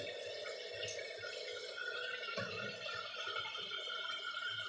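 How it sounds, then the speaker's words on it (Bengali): Water runs steadily while a spice bowl is rinsed in a kitchen, a continuous close splashing stream with faint clinks, no voices. "মশলার বাটিটা ধুয়ে একটু জল দিয়ে দিল, এবার ভালো করে কষাবো।"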